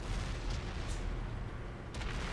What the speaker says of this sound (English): We're going to wait until we hear a gunfire.